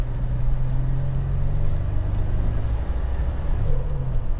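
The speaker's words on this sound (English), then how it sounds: "Turbo works as it should, so you can actually build boost." A turbocharged 1987 Buick GNX engine with stock exhaust hums steadily with a low droning rumble as it builds boost, building slightly without a clear rev, close and continuous throughout.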